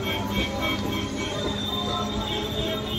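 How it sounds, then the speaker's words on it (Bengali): A train pulls out of Haripal station toward Tarakeswar, its steady rolling rumble mixed with thin high wheel squeal, close by and continuous. "এই দেখো হরিপাল থেকে কিন্তু আমাদের তারকেশ্বরে ট্রেন যাচ্ছে।"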